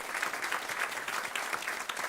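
An audience claps at a climate action event on food waste in New York City, a dense, even patter of many hands that stays steady throughout this short stretch.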